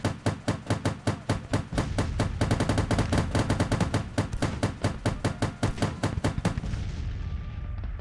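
Gatling guns in the Civil War strategy game Grand Tactician fire a rapid, even stream of loud cracking shots for several seconds before stopping, leaving a fading echo.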